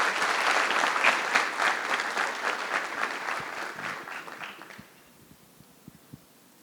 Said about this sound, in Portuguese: Então, palmas para as mulheres aí.